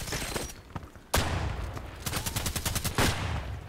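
Bursts of RPKT light-machine-gun fire crack out in the shooter game Contract Wars, a sharp lone shot followed by rapid, evenly spaced rounds and another heavy report, loud and close with no talk.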